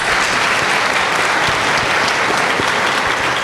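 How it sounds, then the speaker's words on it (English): Audience at a nature corridors panel event breaks into a loud, steady round of applause, dense and continuous throughout with no talking over it. "let's give them a round of applause."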